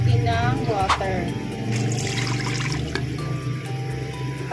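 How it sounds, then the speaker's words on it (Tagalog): Water is poured into a pot holding chicken ball ingredients seasoned with paprika, black pepper and rock salt, a steady close splashing and trickling over a constant background hum. "Ilalagyan natin ng water."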